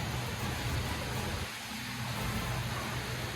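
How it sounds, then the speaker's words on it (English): Steady broadband wash of a tropical rain shower falling by a resort pool in Riviera Cancun, a constant hiss with no voices, briefly dipping in the middle before resuming. "It looks like we have a little tropical rain shower"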